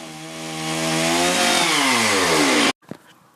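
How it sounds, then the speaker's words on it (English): A chainsaw cuts off a knobble of wood to flatten it, a loud close revving whine that climbs in pitch and strains for almost three seconds, then cuts out abruptly, followed by a brief knock. "chops off a knobble to make it flat"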